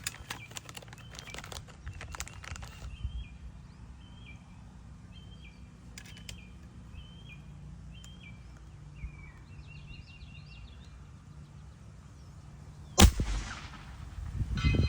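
An FX Dynamic air rifle pellet strikes a steel target at long range, up to 300 yards: a single sharp, distant crack near the end over quiet outdoor ambience with birds chirping.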